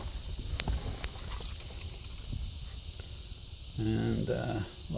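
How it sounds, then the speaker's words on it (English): Keys jangle faintly beside a Mazda Bongo van's side door during a central locking repair, with soft clinks over background hiss and a brief tonal chirp near the end. "Keys."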